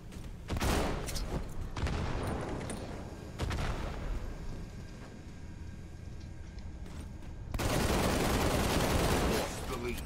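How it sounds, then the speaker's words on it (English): Shotgun blasts and other gunfire in a Halo 2 Anniversary match on PC, heavy booming shots at intervals with a loud, sustained burst near the end, players talking faintly underneath. "A shotgun!"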